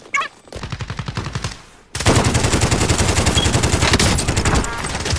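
Rapid automatic gunfire from a Call of Duty Modern Warfare Warzone match, loud, dense bursts of rattling shots that start after a short lull and continue steadily to the end.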